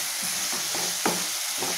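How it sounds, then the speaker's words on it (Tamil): Green pigeon peas go into a sizzling onion-tomato mixture in a pan for a masala curry, and a spoon stirs them in a few soft scrapes over a steady close frying hiss. "இப்போ நம்ம தொளிச்சு வச்சுருக்க இந்த பச்சை துவரையை சேர்த்திடலாங்க. சேர்த்தி நல்லா கலந்து விட்டுடலாம்."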